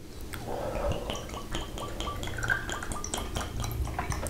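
Vodka is poured into a glass at a table, a faint close trickle of liquid with small clinks of glass and dishes, quiet and without talk.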